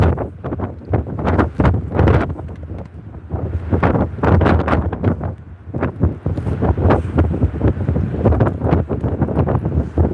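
Strong gusty wind on Hollym beach near Withernsea buffets the microphone in loud, uneven bursts, a continuous roaring rush with no voices.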